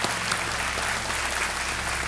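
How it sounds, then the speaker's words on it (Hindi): A television quiz show studio audience claps to welcome a guest, a short, continuous and even burst of applause filling the room with no speech on top. "तालियों के साथ इनका स्वागत।"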